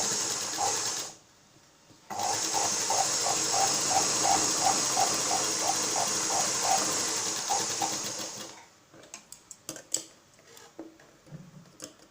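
A sewing machine stitches a blouse in a steady, rapid run of needle clicks lasting several seconds after a brief start, then stops, followed by scattered handling taps and knocks.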